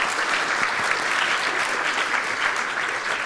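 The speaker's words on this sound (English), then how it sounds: "Can we give them a round of applause" A lecture-hall audience gives a round of applause, a dense, continuous clapping that holds at an even level for about three seconds with no talking over it.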